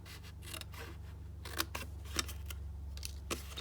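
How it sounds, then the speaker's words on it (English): Scissors cutting designer paper along a score line, a series of crisp, close snips at irregular intervals over a low background hum. "Then I'm going to cut down the next score line to the second score line and cut that whole section off."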